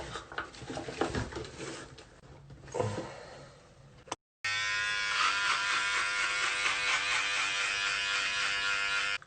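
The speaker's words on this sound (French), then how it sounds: "Je vais me raser pour qu'on puisse bien voir la différence." An electric shaver buzzes steadily and loudly at close range through the second half, after some earlier handling noise and a brief silence, with no talk.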